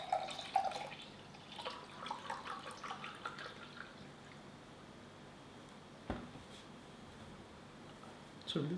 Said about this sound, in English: So I'll just pour 200 ml.